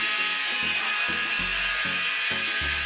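An electric mixer grinder whirs loudly and continuously while blending eggless veg mayonnaise with refined oil, its high whine steady over a low, rhythmic thumping churn.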